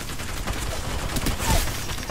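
Apex Legends gunfire crackles in a dense, busy stretch of battle, with several sharp shots and distant rattling bursts layered over constant game noise.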